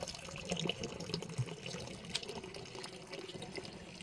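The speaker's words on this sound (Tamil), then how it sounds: "தண்ணி ஃப்ளோ கொஞ்சம் ஸ்பீடா இருக்கும்" Water flows steadily from a homemade filter system into a large backyard pond, a faint continuous rushing and splashing with no voices.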